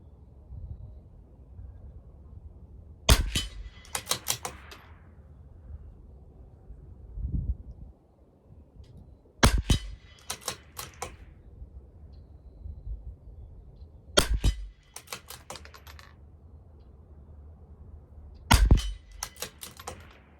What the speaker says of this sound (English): Next 5 shots of our fouling.